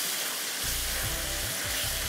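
Meat with plenty of green chillies fries for degi palak gosht, a steady loud sizzle and hiss filling the pan, with low stirring scrapes and bumps underneath, close and continuous.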